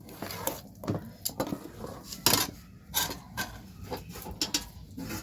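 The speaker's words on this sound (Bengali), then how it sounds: "আর এদিকে এই যে গোলাচ্ছে ব্যাটারটা" Rice flour batter stirred by hand in a bowl with a spoon, giving irregular clinks and scrapes against the bowl's sides, close and moderately loud, with a faint voice in the background.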